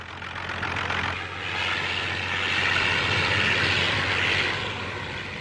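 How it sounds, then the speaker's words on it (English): Propeller aircraft, a party campaign plane, hedge-hopping low overhead with a steady droning engine roar that swells and recedes gradually, loud and continuous with no talking. "He used the party plane on the campaign and also to scatter left-wing rallies by hedge-hopping over"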